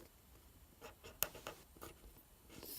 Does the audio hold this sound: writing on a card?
yes